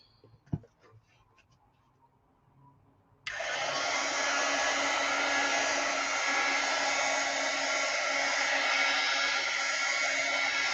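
Hair dryer drying a wallpaper mixed media journal cover: a few faint handling taps, then the dryer switches on abruptly and blows with a loud, steady whooshing roar to the end.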